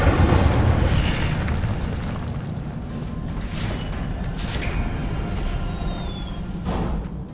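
The Incendio fire spell in Hogwarts Legacy bursts out as a loud, booming whoosh that settles into a rumbling roar, with faint sparkling chimes toward the end.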